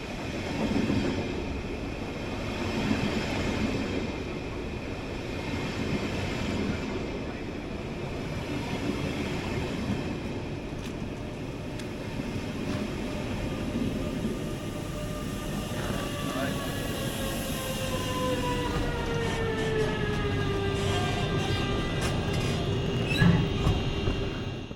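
An intercity double-decker Twindexx train pushed by a Bombardier Traxx locomotive rolls into a station, a steady rumble with rising and falling brake squeals and tones near the end, heard from a moderate distance with some voices faintly around.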